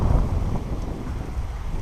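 Gusty wind on a stormy day while fly fishing for bass and perch on a golf course pond buffets the microphone in a steady low roar.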